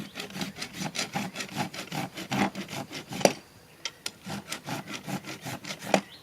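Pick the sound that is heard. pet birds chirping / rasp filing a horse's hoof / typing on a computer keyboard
rasp filing a horse's hoof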